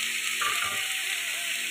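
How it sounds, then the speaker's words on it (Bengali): Vegetables fry in a pan while khichuri is being cooked, with a steady, loud, close hiss of sizzling oil throughout the brief moment. "আমি সবজিগুলো একটু ভাজা ভাজা করে নিচ্ছিলাম।"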